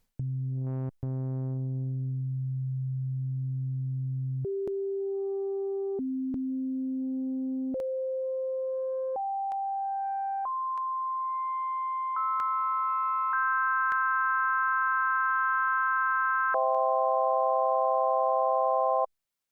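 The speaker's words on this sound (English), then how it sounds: "super clean sine waves like they are here in a digital synth environment" Pure, steady digital synth sine tones set up as an organ step through a sequence of sustained pitches, some chords faintly gritty from slight feedback, loud and close with no other sounds.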